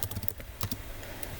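Computer keyboard typing at a desk beside a Brother NV880E embroidery machine setup, a short burst of quick, light keystrokes clustered near the start and middle, then trailing into quieter room noise.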